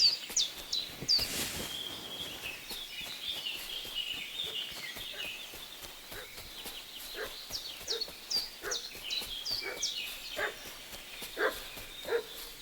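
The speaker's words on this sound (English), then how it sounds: "What's that dog making such a fuss about?" In the medieval video game Kingdom Come 2, a dog barks in repeated, uneven bursts at a middling distance, set against a background of bird and fowl calls.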